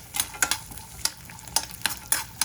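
Country onions and garlic frying in oil for a mutton curry, a low sizzle punctuated by sharp, regular spatula scrapes roughly every half second, close up and without voices.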